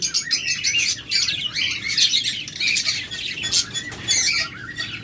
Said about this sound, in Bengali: তাছাড়া রয়েছে বাজরিগার পাখি।